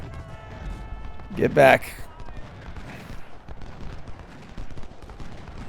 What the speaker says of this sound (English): Oh, they have artillery up here too.